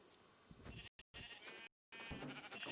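Several short Minecraft sheep bleats in a row, separated by brief silent cuts, clear and close.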